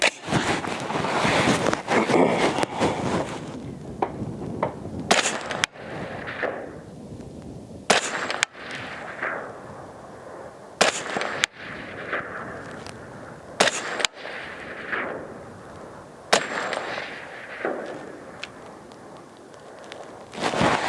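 A PSA M110-A1 .308 rifle firing Norma Golden Target 175-grain ammunition outdoors, sharp loud shots spaced a few seconds apart, about eight in total, over wind noise.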